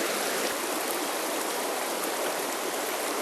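The Farmington River, a cold water stream, rushes in a steady, loud, close wash of flowing water with no voices.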